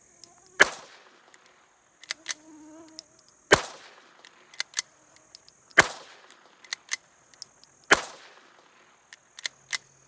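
Four sharp, separate shots ring out about two seconds apart, each a crisp crack with a short decay, as subsonic rounds are fired from a GSG Firefly pistol fitted with a Bowers USS suppressor; the slide does not cycle.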